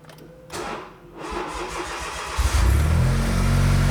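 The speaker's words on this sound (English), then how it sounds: "Let's start the car up." A Smart Roadster Brabus engine with a weak battery cranks sluggishly for a couple of seconds, then catches and rumbles into a loud, steady idle close by.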